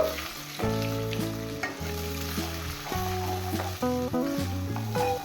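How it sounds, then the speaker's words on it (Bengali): Two eggs frying in hot oil with a little salt give a steady, close sizzle that runs the whole time beneath louder background music. "তেল গরম হয়ে গেছে। বা তেলের মধ্যে দিয়ে দেব 2টো ডিম"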